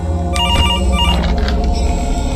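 Telephone ringing for a phone call at the start of a night in a FNAF fan video game, loud and steady with a repeating ring pattern over a dense background and no talk.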